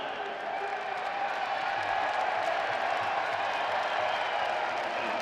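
A hockey arena crowd cheers and roars in a steady, dense wash of noise that holds throughout, mixed with some clapping.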